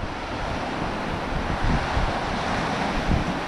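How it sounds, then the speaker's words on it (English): Wind and surf roll steadily at a beach during fishing for Spanish mackerel, with a broad rushing wash and low rumbling wind buffets on the microphone. It plays on its own at moderate level. "Wind."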